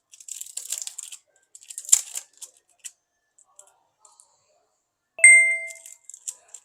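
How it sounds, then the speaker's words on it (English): Protective plastic film peeled back during an OPPO A79 5G LCD replacement, a close crinkly tearing rustle in irregular bursts, followed by a brief ringing tonal ding and a few light ticks. "pull back this paper, this plastic."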